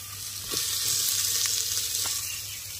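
Mutton sizzles steadily in a pan with tomatoes, a continuous broadband frying hiss for a village-style kandoori mutton dish, with a few faint stirring clicks and no voices.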